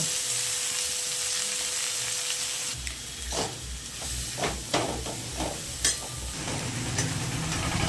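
Water spinach fries with prawns in a hot pan, a continuous close sizzle broken by several scraping stirs and bursts of crackle.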